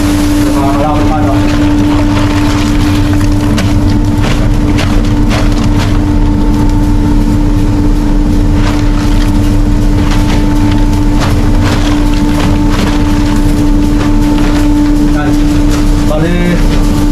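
A Japanese rice milling machine polishing brown rice to white runs with a loud, constant mechanical drone and steady hum, and someone talks over it at intervals.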